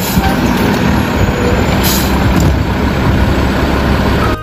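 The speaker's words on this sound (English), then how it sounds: "This is a garbage truck" A garbage truck rumbles loudly and steadily nearby, a constant engine drone with a brief higher hiss partway through, and no voices.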